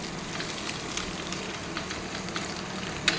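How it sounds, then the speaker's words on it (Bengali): Food frying in a small amount of oil gives a steady, close sizzle with light crackles and pops. It runs evenly with no voices. "হালকা তেল দিয়ে আমি ফ্রাই করি"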